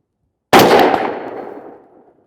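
A single sharp rifle shot from Atomic Ammo 77 grain match ammunition cracks loudly out of silence, then its echo decays over about a second and a half outdoors.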